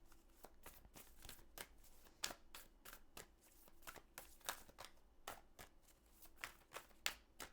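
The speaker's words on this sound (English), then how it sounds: "So let's pull some cards and see what the cards want to say" Tarot cards are shuffled close up in a quiet room, a soft, irregular run of crisp papery riffles and snaps that continues throughout.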